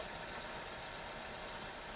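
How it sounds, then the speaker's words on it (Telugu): A Hyundai i20 Sportz petrol engine idles steadily with a smooth, even hum and no pauses, the low rumble holding constant throughout. "వెహికల్ ఇంజన్ స్టార్ట్లో ఉన్నా కానీ చాలా స్మూత్ ఉంది ఇంజన్ మాత్రం"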